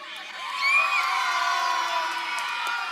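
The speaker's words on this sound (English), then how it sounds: "let's get a big cheer for Haley from all of you" A large arena crowd at a Canadian swimming finals cheers and whoops for a swimmer, a sustained roar that swells, peaks, then holds steady with high shouts on top.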